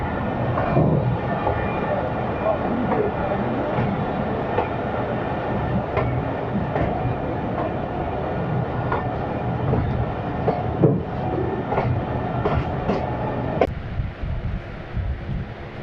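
The Khushhal Khan Khattak Express runs on rails on the ML2 route, heard as a continuous heavy rumble with rhythmic clicks and clatter from the wheels, steady and fairly loud throughout.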